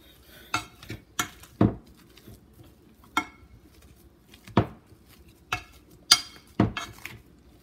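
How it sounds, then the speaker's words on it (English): Cooked, drained potatoes being mashed in a pot, heard as irregular sharp metallic knocks and soft squishy thuds of the masher against the pot, about ten distinct strikes, close and alone. "So now we're going to mash them."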